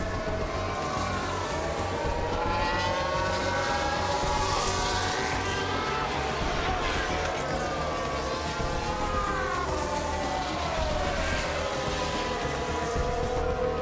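Formula 1 race car engines whine in the F1 Manager 2023 video game, a continuous layered drone with pitch sweeping up and down as cars pass, steady and moderately loud.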